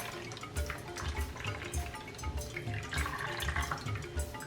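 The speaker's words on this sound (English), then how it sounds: "Let's squeeze all the water out of it." Water squeezed by hand from homemade cassava dough, dripping and trickling in a steady wet run with soft repeated squelches, close and moderately quiet.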